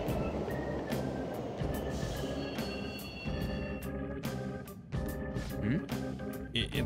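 A train pulls into a station in Persona 5 Royal, with rumbling wheels, clacking over the rails, metallic squeals and hisses of braking, moderately loud and continuous.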